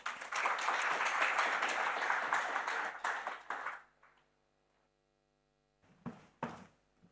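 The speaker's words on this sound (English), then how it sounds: "Please, may we give a round of applause to our panelists." Audience applause for panelists at an industry session fills the room for about four seconds and fades out, followed by near silence and a couple of brief, scattered bursts of claps or knocks.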